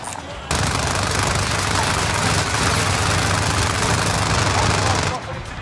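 Helicopter in a Call of Duty: Warzone match on Caldera, a constant loud rotor-and-engine drone filling the scene, joined by rattling gunfire while a player speaks.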